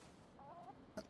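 Chicken clucking in Valheim, a short rising cluck in the middle followed by a sharper squawk near the end, faint over a steady low game background.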